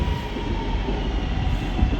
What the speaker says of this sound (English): the train is coming over the viaduct now